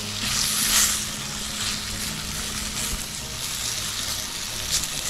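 Eggplant fries steadily in a pan with a continuous close sizzle and crackle, with brief brighter bursts of spitting oil and occasional stirring.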